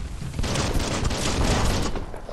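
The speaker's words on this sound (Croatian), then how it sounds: "Aha, to je bila eksplozija." A video game explosion, a loud, dense burst of booming, crackling noise that rumbles on across the whole moment with no one speaking.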